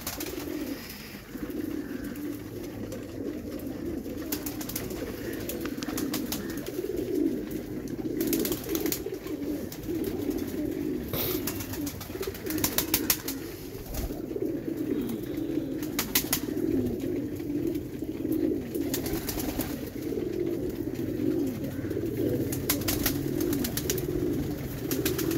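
Pigeons, large and active birds kept in lofts, coo in a steady overlapping chorus at sunset, with soft wing flutters now and then, continuous and fairly close throughout.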